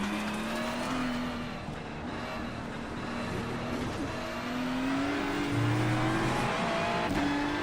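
A Porsche race car in a racing simulator game roars and revs continuously, its engine note rising and falling through gear changes, with a brief tire squeal near the end, loud and close throughout.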